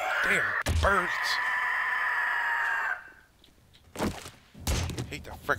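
A bird in the survival video game 7 Days to Die lets out a loud, harsh, crowing squawk for about three seconds, then gives way to quieter background and a few short bursts of voice sound.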